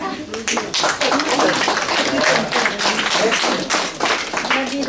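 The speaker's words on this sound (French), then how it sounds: "Et vous pouvez applaudir." Audience applause at an international award ceremony in Nice, a close, lively stretch of many hands clapping for the whole moment, with some voices mixed in.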